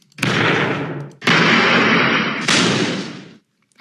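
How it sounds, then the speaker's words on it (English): Crash and explosion sound effects previewed in the Buildbox game editor, three loud bursts in a row, each a heavy boom that decays with a rumbling roar before the next one starts. "let's type explosion in here, and we'll have a lot of different crash and explosion effects"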